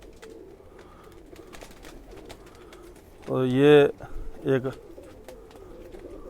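An old Khaki Chua pigeon gives a loud burst of cooing close by, then a shorter second coo, over a quiet background with someone speaking briefly.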